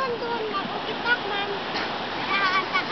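Floodwater rushing and splashing past a damaged bridge in Kakiduguen, Kasibu, Nueva Vizcaya after Typhoon Labuyo, a steady close churn with children's voices and chatter over it.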